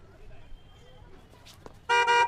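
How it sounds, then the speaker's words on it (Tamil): Two short, loud car horn blasts ring out close by near the end, following a quiet stretch of faint background noise and a few soft clicks and rustles. "நின்னுட்டு இருக்க வண்டியில எதுக்கு ஹார்ன் அடிக்கிறீங்க?"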